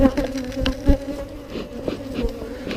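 Agitated honeybees buzz at a hive in Texas, a close, dense droning hum with fluctuating pitch as bees swirl around, no voices.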